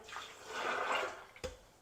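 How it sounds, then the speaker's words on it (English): Two cups of water poured into a blender with cashews, a short, close splash and rush that swells then stops with a small knock, with no talk. "I'm going to add 2 cups of water"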